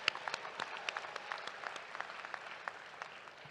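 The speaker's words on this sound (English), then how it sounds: "Please join me in another round of applause for Dr. Rock" Scattered, moderate applause from a graduation commencement audience, with distinct individual claps popping out of a thin, moderately distant patter that stays fairly quiet throughout.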